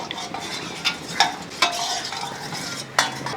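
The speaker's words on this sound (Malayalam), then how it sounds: "എന്നിട്ട് ഇതെല്ലാം കൂടെ കലക്കി" A spoon stirring a sambar mixture in a pot, close-up, with four or five sharp scraping clinks at irregular intervals over a soft wet swirl.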